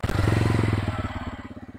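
The exhaust of a TVS Ronin 225 motorcycle idles close by with a low, steady, rhythmic thumping pulse that is loud and alone, the beats loosening slightly toward the end.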